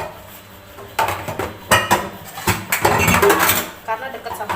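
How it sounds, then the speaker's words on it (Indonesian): Dishes being washed in a kitchen sink of a small rented home: loud clattering plates, pots and cutlery knock and clink in irregular bursts close up, with running water hiss underneath. "aku tuh kalau nyuci piring kayak gini ya, aku cuci dulu semuanya, baru aku bilasin"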